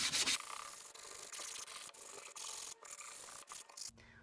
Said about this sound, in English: The very first step is to sand our board.